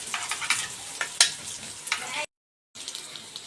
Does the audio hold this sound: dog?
no